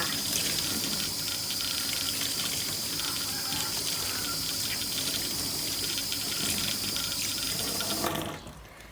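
Water runs steadily from a tap while a foamy sponge is rinsed under it, a loud continuous hiss and splash that cuts off near the end, with no talking.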